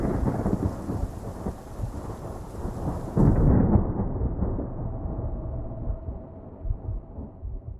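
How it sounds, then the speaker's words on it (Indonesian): Heavy rain pours steadily outside as thunder rolls, with one loud thunderclap about midway through the downpour before it tails off. "Di luar akan turun hujan lebat."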